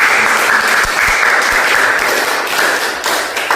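Steady, dense applause from a group during a mathematics lesson, a continuous loud clatter of many hands with a few sharper thumps, with no talking over it.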